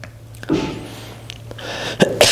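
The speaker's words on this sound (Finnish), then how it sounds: "Ikävä yskiä varsinkin tämmöisenä korona-aikana." A man gives a few short, harsh coughs at close range in a quiet indoor space, with brief bursts spaced over a couple of seconds.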